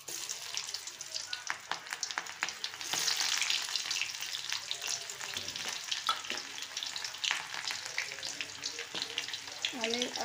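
Raw onion and curry leaves frying in a pan, a soft steady sizzle with frequent small crackles and pops, close but fairly quiet, with a few faint utensil scrapes.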